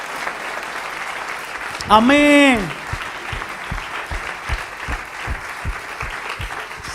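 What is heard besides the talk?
church congregation applause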